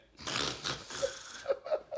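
A man mimics loud, unusual snoring with his voice, giving rough breathy snorts followed by a few short, siren-like honks.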